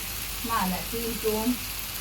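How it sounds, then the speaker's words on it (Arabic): Oil sizzles softly in a pan as vegetables are sautéed for a ruqaq tray, a low, steady frying hiss running beneath a voice speaking throughout. "ادي شويه زيت صغيرين كمان. شوحت تشويحيه كده صغيره"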